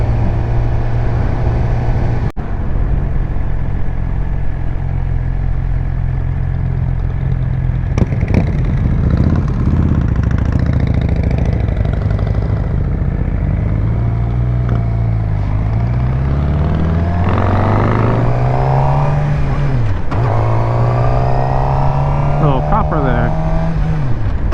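A sport bike's engine drones loudly and continuously while riding, its pitch rising and falling through gear changes, with a rider talking over the steady roar and rushing wind.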